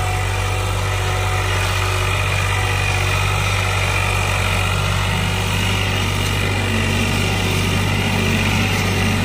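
An old tractor engine running steadily, a loud continuous low drone with a strong, unchanging hum and no breaks or revving across the stretch.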